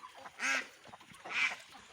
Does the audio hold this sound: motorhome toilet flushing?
no